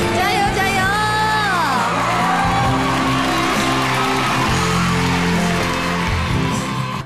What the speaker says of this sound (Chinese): 掌声再次响起